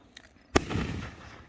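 Backyard fireworks at a family farm show: a single sharp bang with a rumbling, crackling tail fading over a second, moderately distant, after a couple of faint earlier pops.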